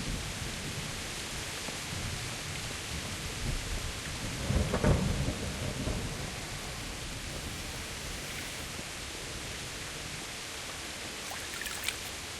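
Steady rain with rumbling thunder in the medieval game Kingdom Come: Deliverance, a continuous downpour broken by a heavier thunder roll midway and faint crackles near the end, with no voices.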